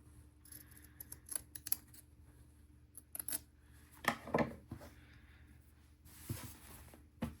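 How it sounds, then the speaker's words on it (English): Scissors trimming the fabric edge of a stitched stocking, quiet close snips in short irregular clusters with soft rustling of cloth between cuts. "Trim this edge up."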